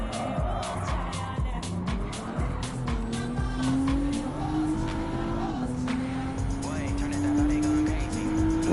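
Race car engine in the Gran Turismo 7 video game, with slight turbo lag, holds a steady, loud drone that climbs gradually in pitch as it accelerates, with brief tire and skid noises layered over it throughout.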